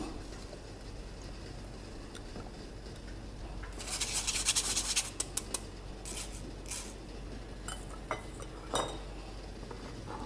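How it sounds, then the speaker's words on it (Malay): Tapioca flour batter for kuih talam is pushed through a metal sieve, giving scraping, rubbing and light clinking of utensil against mesh and bowl, with a busy burst of activity in the middle and scattered clinks afterward, close up. "Kita perlu tapis adunan ni"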